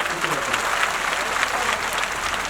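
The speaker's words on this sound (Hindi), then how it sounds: "ताली बजा के इन सब लोगों का" Clapping from a crowd of devotees at a public religious gathering in a village near Dharampur, a dense, loud and continuous patter of many hands filling the whole moment.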